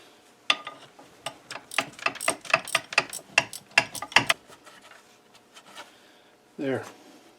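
A bolt is worked loose from a vise, heard as a close run of dry metallic clicks and ratcheting turns, quickening then thinning out, followed by a short scraping rattle at the end.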